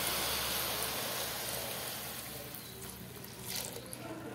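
Milk poured into a pan of frying bottle gourd halwa, a steady wet pouring and splashing hiss that runs for several seconds and fades slightly near the end.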